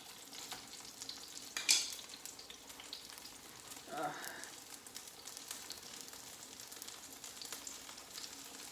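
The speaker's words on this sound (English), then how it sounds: "you can cook the fish without sucking up a lot of oil" Cod fish fritters fry in oil with a faint, steady sizzle, broken by a couple of soft clatters from the pan.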